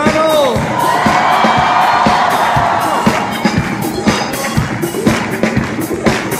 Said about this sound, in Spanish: Que subirle al volumen de su grito de júbilo,